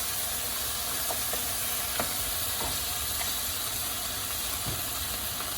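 Duck meat sizzles steadily in a hot pan while duck adobo cooks, with a broad continuous hiss and a few faint clicks of stirring. No voices are heard.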